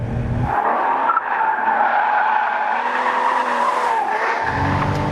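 Tires on a 2013 Porsche Boxster S squeal loudly and continuously while the car oversteers mid-corner on track, with the engine droning underneath at the start and end.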